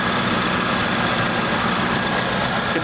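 The 5.4 liter 3V Triton V8 in a 2005 Ford Expedition Eddie Bauer idles with a steady, low rumbling drone, close and constant with no voices.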